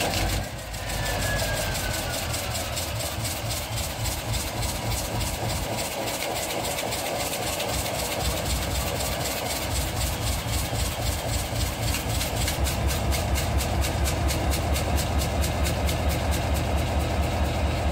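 Old 16-cylinder diesel locomotive engine cold-starting after years of sitting, a loud, close, rumbling idle with heavy rhythmic low-end pulsing and clattering that builds slightly over time.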